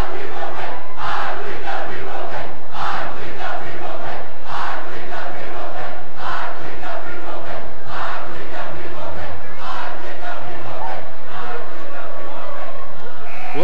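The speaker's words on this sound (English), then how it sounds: "This one may be the best as they get the chant started" A high school basketball student section crowd, the Green Canyon fans in Cache Valley, chants in rhythmic bursts that fill the gym, loud and steady for the whole stretch with no single voice standing out.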